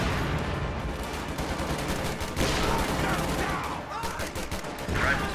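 Sustained infantry small-arms fire in a strategy game, with dense overlapping rifle and machine-gun shots rattling continuously at a steady, moderately loud level throughout.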